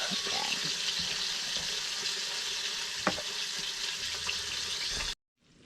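Sliced banana blossom fries in a pan with a loud, steady sizzle and crackle, plus an occasional light clink, before cutting off abruptly near the end.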